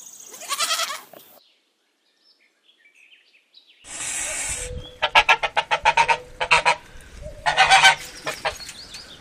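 A goose honks in a series of loud, close, rapid calls, a burst at the start, then a pause and a run of quick repeated honks.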